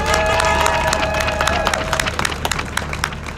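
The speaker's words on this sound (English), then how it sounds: "Give another round of applause for Kimberly Armstrong" A crowd at a protest rally in Minneapolis claps and cheers loudly, with dense sharp claps that thin out toward the end while a voice rings faintly under the noise.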